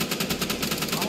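Rapid gunfire from a Roblox gun game, a dense stream of quick shots in a steady automatic rhythm, with a little talk mixed in underneath.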